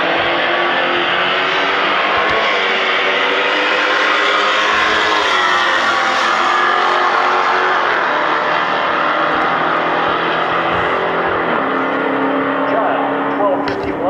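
A 1994 Chevrolet Camaro with a 355 cubic inch engine drag racing a Hellcat at the strip, a loud, sustained engine roar that holds steady across the run and fades slightly at the end.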